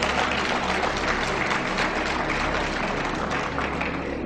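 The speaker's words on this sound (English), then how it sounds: "Yes, you can clap for that." An audience applauds, a continuous wash of clapping at moderate volume, steady from start to finish with no voices standing out.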